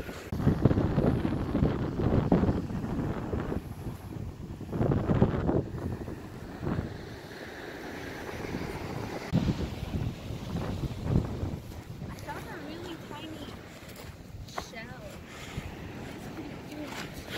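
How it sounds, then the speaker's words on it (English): Waves break on a windy beach near Homer, with rough wind buffeting the microphone and surging water rising and falling over the whole stretch, while people talk intermittently nearby. "maybe I'll try and get more sound of the waves crashing"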